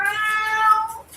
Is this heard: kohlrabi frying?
no